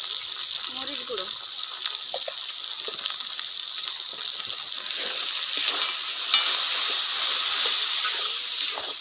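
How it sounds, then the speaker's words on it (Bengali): Masala with turmeric and chili powder sautéing in a pan, a steady hissing sizzle that grows louder and brighter partway through, with faint stirring scrapes and occasional soft voice in the background. "মশলাটা ভালোভাবে কষে নিয়েছি।"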